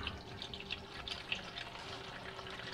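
Engine oil drains from the oil pan of a 2022 Nissan Frontier, which holds 5.3 quarts: a faint, steady trickle of liquid with light splashing, with no talking.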